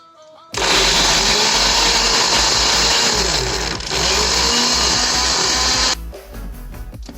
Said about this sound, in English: 4 cloves of garlic in a grinder, and we will grind it into a puree consistency.